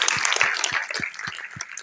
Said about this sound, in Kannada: ಜೋರಾಗಿ ಚಪ್ಪಾಳೆ ಹೊಡೆಯೋಣ ಸರ್ ಅವ್ರಿಗೆ.